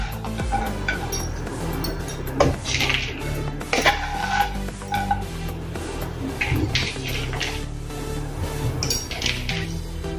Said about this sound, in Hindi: ये देखिए अब इसको हम प्लेट में निकाल देंगे।